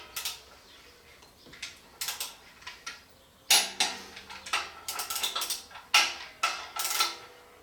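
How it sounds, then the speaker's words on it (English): A half-inch-drive torque wrench tightening fine-thread flywheel bolts on a 1965 Mustang engine to 85 foot-pounds, producing a series of sharp metallic clicks and clanks in short bursts, close and fairly loud, with no talking. "Torquing bolts to 85 foot-pounds."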